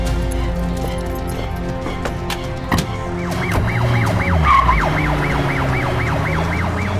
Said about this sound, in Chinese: 押送寇勇的警车被超载的大货车撞了